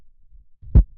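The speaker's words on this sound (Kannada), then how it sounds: "ಬೋಟ್ ಹತ್ರ ಹೋದಷ್ಟು ಹಾರ್ಟ್ ಬೀಟ್ಸ್ ತುಂಬಾ ಜೋರಾಗಿ ಓಡ್ಕೊಳ್ತಾ ಇತ್ತು." A single deep heartbeat thump stands out against near silence, low and muffled.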